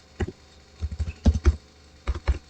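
Keys tapped on a computer keyboard while a password is typed, with short uneven clusters of close, soft clicks separated by brief pauses.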